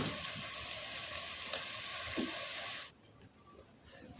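Onions frying in a pan while being stirred give a bright, dense sizzle with small scraping knocks, then drop suddenly to a much quieter crackle near the end.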